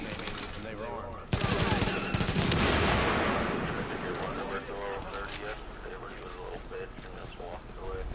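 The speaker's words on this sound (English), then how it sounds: "Oh shit, I'm getting shot." Sudden loud burst of rapid gunfire in a video game, hitting the player, rattling on for a couple of seconds and then trailing off under ongoing game noise.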